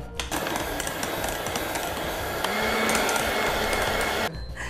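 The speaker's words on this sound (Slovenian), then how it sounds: "Zdaj pa lepo zmešamo še z mešalnikom in priloga je pripravljena." An electric mixer blends a curd side dish seasoned with a pinch of cumin, running as a steady, loud whirring drone for about four seconds before cutting off abruptly.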